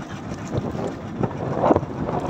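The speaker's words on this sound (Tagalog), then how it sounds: "Ayan na, malakas na ang hangin." Strong wind buffets and roars steadily across the microphone, gusting louder in bursts over a constant rushing noise.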